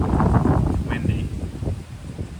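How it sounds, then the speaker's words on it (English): Wind blows outdoors as a steady, low rumbling gust against the microphone, with faint rustling mixed in. "Windy."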